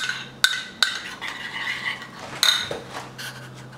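French toast batter of milk and other ingredients being mixed with a utensil, sharp clinks against the bowl at irregular intervals over soft swishing, close and fairly loud.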